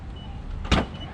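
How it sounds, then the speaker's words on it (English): A short, sharp click as a Tesla Model 3 electric tailgate opens, near the middle of an otherwise quiet, low background hum, with no voices. "So you can hear a tack sound, yeah, when it opens."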